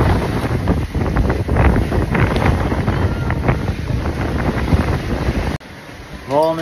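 Strong wind roars across the microphone aboard a sailing catamaran in 30-knot gusts and four-metre Atlantic waves, with rushing water and hull noise throughout; the roar drops abruptly near the end.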